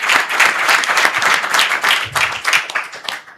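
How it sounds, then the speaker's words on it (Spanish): An audience applauds to welcome a speaker at a legal seminar, dense steady clapping that stays loud for a few seconds before tapering off at the end. "Un fuerte aplauso para él, le damos la bienvenida."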